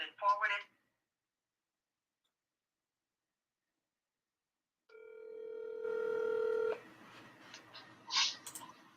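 Telephone keypad tones sound as a call is placed, first a brief burst of beeps, then after a pause a steady dial tone and ringback, followed by scattered clicks and a short burst of speech.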